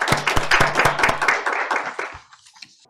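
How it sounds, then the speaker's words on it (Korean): Audience applause at a 2020 children's welfare forum in Daejeon greets a panelist, with a few sharp claps up front, then dense clapping that thins out and fades over about three seconds. "큰 박수로 맞아주세요."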